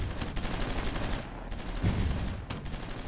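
Gunfire and artillery from the war strategy game Supreme Ruler Ultimate, heard as a steady, loud roar of rapid shots and rumbling blasts with no break and no voices.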